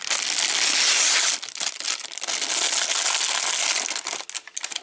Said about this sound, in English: we get this little bit of tissue paper that contains the accessories